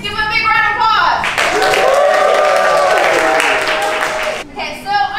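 An audience at a museum animal show breaks into loud, sustained applause and cheering from a crowd, swelling after a moment and fading near the end, with children's voices mixed in.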